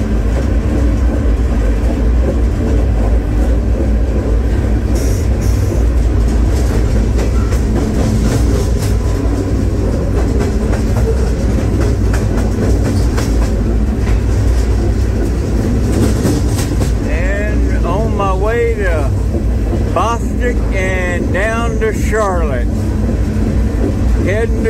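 A CSX freight train rumbles loudly and continuously along the rails near Charlotte, North Carolina, a heavy steady roar with faint rhythmic clatter and squealing metallic tones late on.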